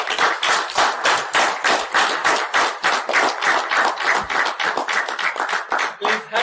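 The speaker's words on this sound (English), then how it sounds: "Give a big round of applause to DTM Akbar Jan Marwat" Applause from a seated audience at a Toastmasters debate meeting, greeting DTM Akbar Jan Marwat, a former KPK finance minister, to the stage: a small crowd clapping steadily and close by for about six seconds, with no voices over it.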